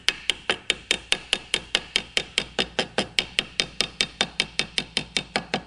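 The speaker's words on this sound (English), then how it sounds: "we're going to use a small hammer, and we're just going to hammer that over" A small hammer taps brass in a fast, even rhythm, dozens of crisp ringing strikes one after another at close range, shaping the sides of a flask.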